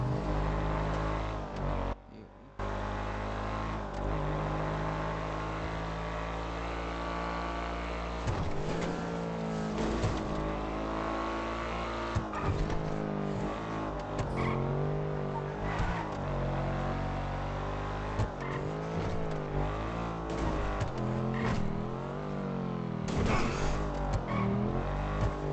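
Car engine in a GTA roleplay game, a continuous loud drone rising and falling with acceleration and gear changes over the whole stretch, with a brief dropout near the start.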